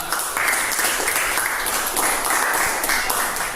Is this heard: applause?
yes